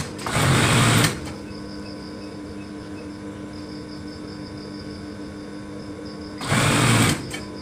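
A sewing machine tacking layers of a baby blanket, running in a steady close whir, with two louder, faster bursts at the start and end and a quieter hum between them.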